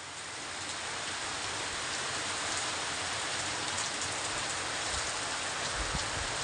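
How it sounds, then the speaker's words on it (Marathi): Steady heavy rain pouring down on a farm field, a dense continuous hiss of drops on surfaces, constant and enveloping throughout. "पण आता हे पाऊस एवढा येऊ राहिला"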